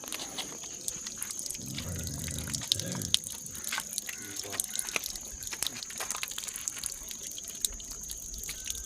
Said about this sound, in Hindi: एक नाक में डाल रहे हैं, दूसरे नाक से पानी गिरा रहे हैं